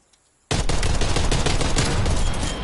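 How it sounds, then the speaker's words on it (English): Sudden heavy gunfire in Call of Duty erupts from near silence into a dense, continuous burst of rapid automatic shots overhead, loud and unbroken to the end. "Oh, shooting above your head."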